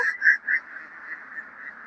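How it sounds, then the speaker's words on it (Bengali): Domestic ducks raised on an open river char farm give several loud, nasal calls in a quick rhythm, then trail off into a steady, fainter chatter of quacks with no talking. "অনেক সুন্দর পরিপাটি করে হাঁসগুলাকে পালতেছে"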